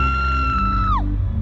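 A loud, sustained high scream from a fan at a concert holds steady, then slides down sharply in pitch before breaking off, over a dense low roar of crowd and music.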